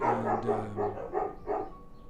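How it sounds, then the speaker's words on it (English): Dogs bark in a short burst of four or five woofs in quick succession, moderately close and fairly loud, with no one speaking. "of course the dogs have to start barking"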